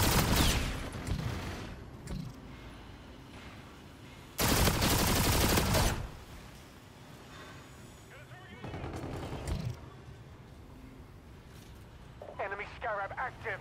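Automatic fire from the X-EON assault rifle in a shooter video game: a few rapid bursts, one long loud burst in the middle, with game sounds and chatter around them.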